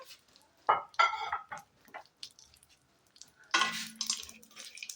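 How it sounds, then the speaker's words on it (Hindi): Almonds are fried in a little ghee in a pan: a utensil scrapes and stirs in short, quiet bursts over a faint sizzle, up close, with no voices. "ये मैंने थोड़े से बादाम ले लिए थे, इसको भी हम फ्राई कर लेंगे।"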